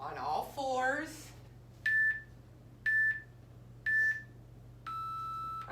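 A workout interval timer gives three short evenly spaced beeps about a second apart, then a longer final tone, clear and close in a quiet room after a brief bit of talk.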